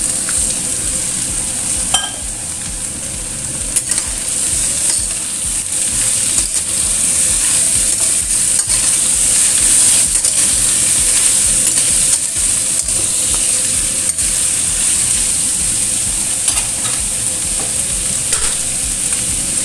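Pumpkin stir-fries in a pan with shallots, garlic and ginger, sending up a loud, continuous sizzle. A spatula scrapes and taps the pan again and again, close and with no talk.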